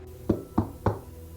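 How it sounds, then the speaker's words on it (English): Three evenly spaced, dull knocks on a hotel door sound in quick succession, close and solid, over a low background hum. "Then he heard 3 more knocks."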